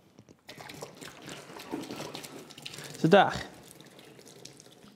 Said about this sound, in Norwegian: kommer vannet ut samtidig som luften går inn